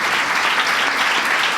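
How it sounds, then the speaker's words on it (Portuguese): A church congregation applauds during a Sunday worship service, a brief, dense, steady wash of clapping at close range. "Aplaude Ele"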